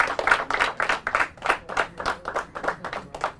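Audience applauding a quiz team during a quiz show, a moderate, slightly uneven burst of hand claps with a roomy feel and no voices over it.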